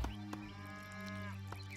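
Cattle mooing in the strategy game Age of Empires 3, a single drawn-out low moo with clear harmonics, close and steady for nearly two seconds, with brief clicks from the game at the start and near the end.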